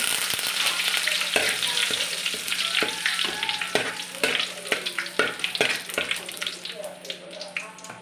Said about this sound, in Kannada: ಸಾಸಿವೆ ಸಿಡಿದಾದ್ಮೇಲೆ ಬೆಳ್ಳುಳ್ಳಿ ಹಾಕಿದ ನಂತರ ಕರಿಬೇವನ್ನು ಸ್ವಲ್ಪ ಹಾಕ್ತಿದ್ದೀನಿ